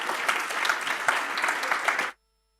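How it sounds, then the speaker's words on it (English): A round of applause from an audience at a political gathering, dense and lively for about two seconds before cutting off abruptly into silence. "let us close with a round of applause for these guys"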